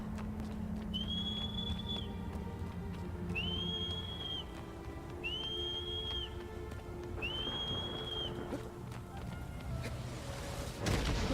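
A character in Shadow of the Colossus whistles four times at steady intervals, each a clear sustained high note, over a steady game ambience of wind and hoofbeats, with a brief crash near the end.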